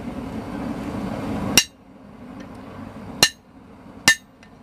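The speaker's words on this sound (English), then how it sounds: "just going to start it off with the peen of my hammer" The peen of a hammer strikes square steel stock three times while tongs are being forged, each blow a sharp metallic ring that stands out over a low background hum, with pauses between the strikes.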